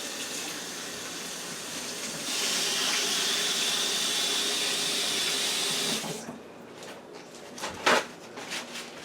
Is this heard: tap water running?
yes